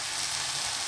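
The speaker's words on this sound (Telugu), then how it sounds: "టమాటాలు కొంచెం వేగుతున్నాయి, ఇంకొంచెం వేగాలి." Tomatoes frying in a pan for a chayote and prawn curry, a brief, even, close hiss of sizzling with no talking.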